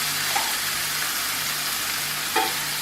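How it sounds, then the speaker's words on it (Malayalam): Onions sautéing with salt in a pan, a continuous close sizzle with two brief spatula scrapes against the metal, no talking. "ഏതാണ്ട് ഒരു 1/2 ടീസ്പൂൺ ഉപ്പ് പൊടി ചേർത്തൊന്ന് വഴറ്റുക"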